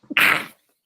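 A single sharp sneeze, short and loud, with a small intake just before it.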